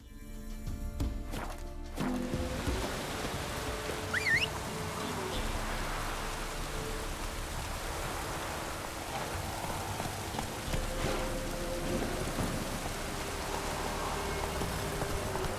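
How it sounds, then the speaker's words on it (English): Steady video game rain in The Witcher 3 patters down throughout, with a few hoof clops near the start and a soft wash of ambient noise behind it. "Looks like rain."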